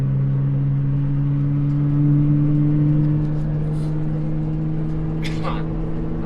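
A vehicle engine drones steadily and loudly near the road above Bryant Beach while gears are shifted, the pitch rising slightly before settling.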